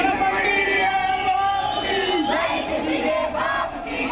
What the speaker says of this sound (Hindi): हजारों की तादाद में हिंदू संगठन से जुड़े लोग सड़कों पर उतरे और मस्जिद गिराने की मांग पर नारेबाजी करने लगे